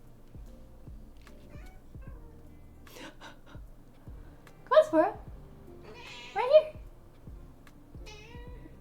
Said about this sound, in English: Can you guys hear her meowing?